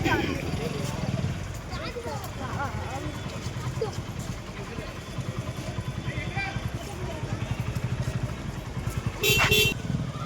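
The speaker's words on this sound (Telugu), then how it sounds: "అందరంగా బైకులు ఆటోలలో వెళ్తున్నారు." Motorbikes and auto rickshaws pull away from a school at dismissal, their engines buzzing and puttering close by under lively children's voices and chatter, with a brief horn-like tone near the end.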